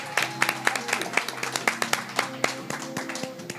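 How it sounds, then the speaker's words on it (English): Audience clapping for a speaker at a live podcast recording on Texas oyster mariculture, steady overlapping claps from a nearby room crowd lasting several seconds, with a few voices cheering underneath. "Everybody think we should give this dude a round of applause."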